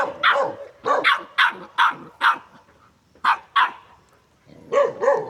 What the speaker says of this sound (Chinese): 狗这么叫都没人，对不对？